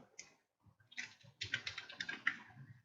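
Computer keyboard typing as a leave reason is entered into time-attendance software, a run of quick, soft key clicks with a short pause near the start, close and fairly quiet.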